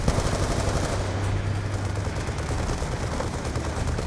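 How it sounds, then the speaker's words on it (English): Video game gunfire from the Call of Duty Black Ops 2 campaign: a dense, continuous roar of rapid automatic fire and battle noise that stays loud throughout without a break. "Where was I just getting shot at from?"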